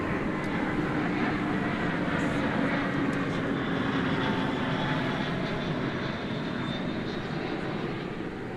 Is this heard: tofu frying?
no